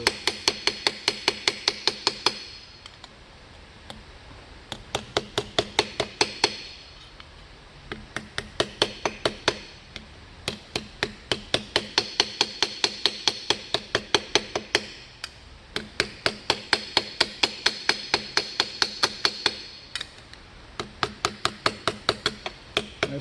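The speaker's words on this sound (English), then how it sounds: "keep hammering little by little on the curve" Hammering on aluminum sheet armor worked around a curve: rapid, regular metallic taps in bursts of several seconds separated by brief pauses, close and loud, no talk.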